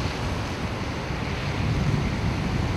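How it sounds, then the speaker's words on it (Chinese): Three-metre waves from Typhoon Soulik crash and surge along the Waimushan coast in Keelung, a steady, loud roar of surf blended with heavy wind buffeting throughout, with no voices. "基隆外木山海边出现了3公尺高的浪花"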